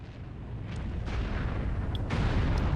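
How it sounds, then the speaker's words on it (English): An explosion in the Might and Magic video game, a low rumbling boom that builds and swells over a couple of seconds, with a few faint sharp clicks on top. "we did just blow it up"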